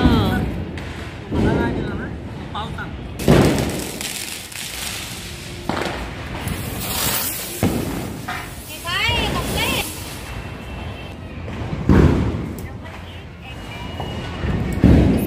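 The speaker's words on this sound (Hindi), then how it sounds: "मामा और मिल के सब लोग बम फोड़ने लगे" Diwali firecrackers burst outdoors as several loud booms and sharp cracks at irregular intervals, mixed with crackling and whistling, under ongoing chatter and shouting from people nearby.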